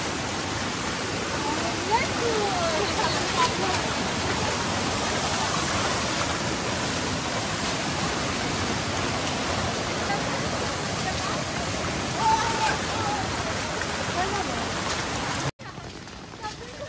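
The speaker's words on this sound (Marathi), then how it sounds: "अरे एवढा पाऊस पडता" Heavy rain pours down in the dense Andharban forest of Maharashtra during a trek, a loud, unbroken hissing roar for about fifteen seconds before a sudden break and a brief return.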